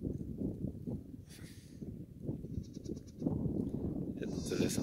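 Two-week-old goat kids bleating in the February sun on a farm, several short high calls overlapping with steady outdoor rustle and faint farmyard background.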